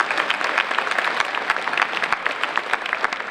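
An audience at the Reaching for Rainbows 2025 event claps for the platinum sponsors, a brief burst of lively applause with individual claps distinct within the crowd.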